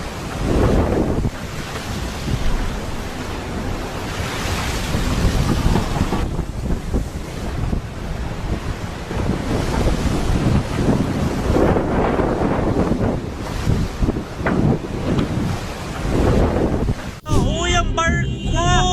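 Strong wind buffets the microphone over crashing waves and rough surf around a boat in high seas, a loud continuous roar for most of the passage before a sharp cut to different sound near the end.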